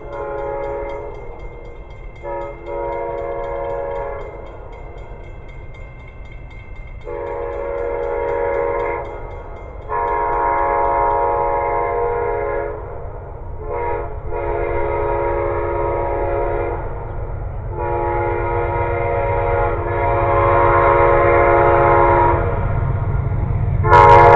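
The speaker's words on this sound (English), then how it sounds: "Alrighty, YouTube, we've another train." A train rolls past with a long rumble while its horn sounds in repeated long blasts, several in a row, loud and fairly close, with no talking.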